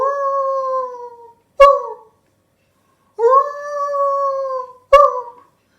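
A person imitates a wolf howl, giving two long, loud, wavering howls, each ending in a short sharp bark-like yelp, with silence between.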